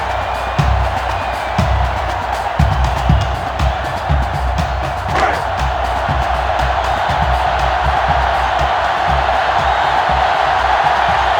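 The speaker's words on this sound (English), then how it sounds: "the defense urging the crowd to get to their feet" Stadium crowd noise from the video game NCAA Football 06 during Tennessee at Notre Dame, a loud, constant roar with scattered thuds and cheers in the first few seconds.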